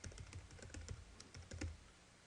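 Close, quiet clicking of fingers typing on a computer keyboard comes in quick irregular bursts of keystrokes. No one talks.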